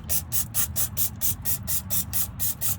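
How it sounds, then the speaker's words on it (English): Rapid, rhythmic bursts of hissing spray from a can of brake cleaner, about a dozen short pulses in quick succession, close and fairly loud, during a Ford F-150 rear brake job. "we're gonna spray it with the brake cleaner."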